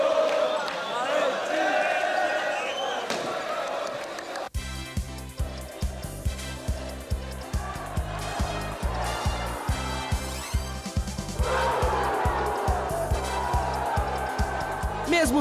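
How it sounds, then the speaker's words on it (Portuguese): Palmeiras supporters chant and shout war cries in the Monumental de Núñez stadium, a steady crowd roar with rhythmic thumping beats, heard under a commentator's voice. "a torcida palmeirense também compareceu e fez ouvir no estádio os seus gritos de guerra"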